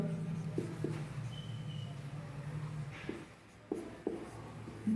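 Chalk or marker scratching on a board while someone writes out the number 64, quiet short strokes with small taps and pauses.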